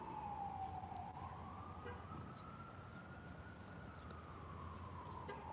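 A distant emergency siren wails in a slow, sweeping tone over faint background traffic rumble.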